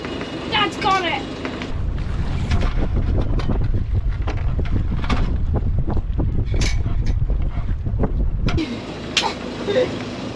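Strong wind buffets the microphone aboard a sailboat running wing-on-wing along the Great Barrier Reef, a loud continuous roar with brief voices at the start and end.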